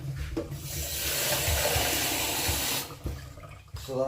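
Water runs from a tap into a container for mixing plaster of Paris, a steady rushing pour lasting a few seconds before being shut off, followed by faint clunks.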